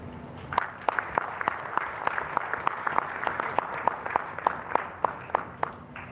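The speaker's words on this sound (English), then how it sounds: "can we put our hands together and give him yet another round of applause" An audience at an awards gala applauds steadily, with dense clapping across the whole stretch and a few sharper individual claps standing out near the front.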